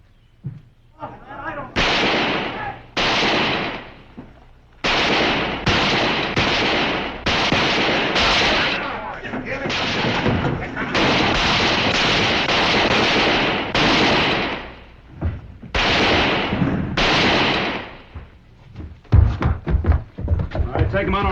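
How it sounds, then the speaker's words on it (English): A western shootout from the Wyatt Earp TV series: bursts of loud gunshots crack in close succession, some overlapping into rapid volleys, with voices occasionally mixed in and a brief lull partway through. "Shooting's commenced."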